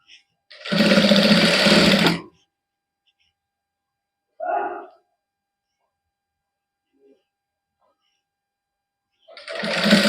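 A sewing machine stitches pintucks on suit fabric: one loud, close burst of steady whirring stitches for about a second, a short second run, then quiet before another burst starts at the end.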